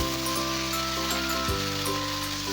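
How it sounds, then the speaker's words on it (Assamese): Boiled taro stems go into a pan of frying ginger, garlic and onion, giving a steady, close hiss and sizzle of hot oil that carries on unbroken throughout. "তাৰপিছতে ইয়াতে বইল কৰি থোৱা এয়া দহি কচুখিনি ইয়াতে দি দিম"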